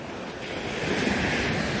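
Rough sea surf rolls onto a beach under strong wind, a loud, continuous wash of breaking waves with gusty microphone buffeting and no voices.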